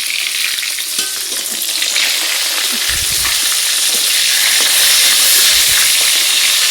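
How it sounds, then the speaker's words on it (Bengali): Fish fries in a pan in a home kitchen with a close, loud, continuous sizzle and hiss, broken by a few low clunks as the pieces are moved or stirred. "এখন এখানে হচ্ছে আমার মাছ ভাজা।"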